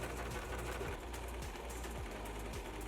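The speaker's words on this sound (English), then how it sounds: "it's time to sew everything together" A sewing machine runs steadily, stitching the sides of a wool cloak and its lining together. The whirring hum holds constant and close for the whole stretch, with no talking.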